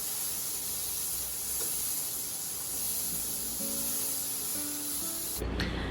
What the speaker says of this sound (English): gently set it in there, and we're going to be searing it on both sides